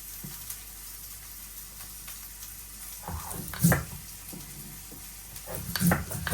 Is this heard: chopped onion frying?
yes